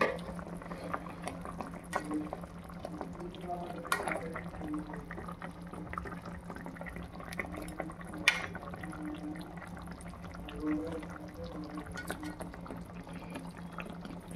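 Fish curry (chepala pulusu) simmering in a pot gives a steady, low bubbling and gentle popping, quiet and continuous with occasional slightly louder blips.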